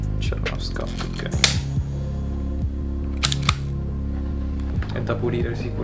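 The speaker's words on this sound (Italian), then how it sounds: "l'otturatore sembra funzionare. Proviamo a impostarlo su tempi diversi." Shutter of a 1966 Minolta Hi-Matic 7s film camera, dusty but working, fired several times at different speeds: a series of sharp mechanical clicks spaced irregularly over a steady low hum, close to the microphone.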